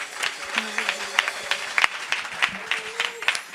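A church congregation applauding and cheering for the Lord during a French-language service: continuous scattered clapping with voices calling out beneath it, fairly close and moderately loud.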